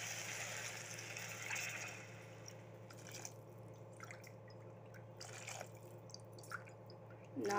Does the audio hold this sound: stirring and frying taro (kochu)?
no